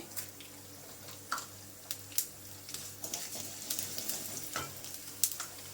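Cumin seeds frying in hot oil for an Andhra-style dal tempering give a soft, close crackle. Irregular pops and spits rise over a faint steady sizzle, with several sharper bursts near the end.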